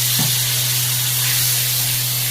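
Water poured onto spice paste with turmeric frying in a pan gives a loud, continuous sizzling hiss that holds steady from start to finish.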